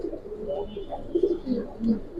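Chocolate-coloured surma khaki Giribaz pigeons of a Palla line give soft, low, rolling coos, several short phrases repeating close by with little else around.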